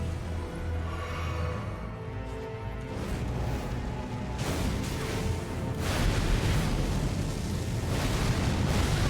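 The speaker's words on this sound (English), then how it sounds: "Alright, yeah, that's the follow-up explosion." A boss attack's follow-up explosion in Elden Ring: a dense, roaring burst of fiery noise that swells and stays loud, with crackling and rumbling over several seconds.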